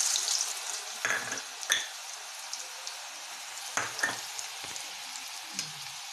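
Garlic drops into hot oil in a kadhai while making amla pickle, giving a steady close sizzle with several soft stirring scrapes and clacks at intervals.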